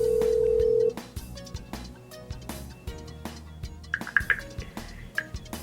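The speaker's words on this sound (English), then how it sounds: "I'll now dial the extension or 10-digit phone number of the second party I would like in my conference, followed by the send key" Telephone tones while dialing the second party to set up a conference call: a long steady dial tone to start, then short scattered beeps and clicks, with a few sharper tones near the end, fairly quiet.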